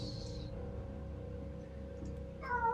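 A cat gives a faint meow near the end, following a quiet stretch of low background hum and a short high tone at the start.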